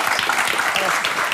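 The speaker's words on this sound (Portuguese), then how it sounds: "uma salva de palmas" A late-night television studio audience claps for a band's drummer, a brief burst of loud, close applause with a voice faintly mixed in.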